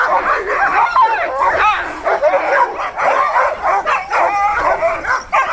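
Many sled dogs bark, yip and whine excitedly all at once before a run, a loud, continuous chorus close by.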